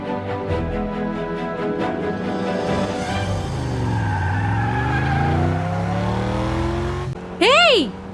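A car driven hard as an emergency vehicle roars and revs through traffic, its engine pitch sweeping up and down, ending in a loud squeal of tires; voices talk over it.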